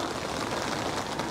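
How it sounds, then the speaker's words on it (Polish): Rain falling steadily outdoors at a riverside fishing spot during a downpour, a dense, even hiss of drops that stays constant through the moment with no talking. "Deszcz pada."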